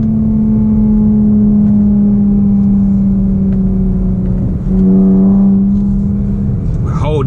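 A Chrysler 300's engine drones loud and steady up close, then shifts pitch as the revs climb, and someone talks briefly over it.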